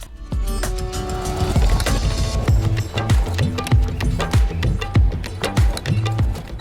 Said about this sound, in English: we're just going to make a stitch on the base, leaving a gap